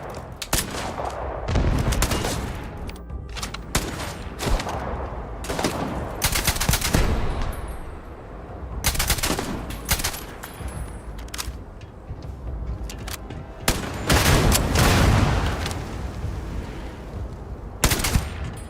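Gunfire in a firefight in the video game Starfield, with dense bursts of rapid automatic shots and booming single blasts repeating through the whole stretch, loud and close with short lulls between volleys.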